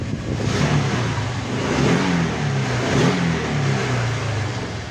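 A Honda Click scooter engine revs steadily with a rising and falling pitch, close and loud, with no talking over it.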